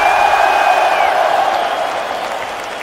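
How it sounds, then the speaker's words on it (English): Arena crowd in Manchester applauding and cheering for a veteran UFC fighter, a dense, steady wash of clapping and crowd noise with a high whistle near the start, gradually easing off. "Round of applause"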